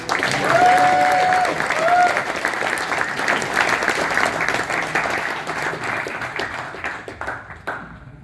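An audience applauds to welcome a guest speaker at a men's weekend at Camp Orchard Hill, with steady, sustained clapping from a crowd that fades slightly toward the end.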